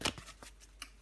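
Tarot cards are shuffled and drawn, making several quick papery flicks and slaps up close at a soft level, with no speech.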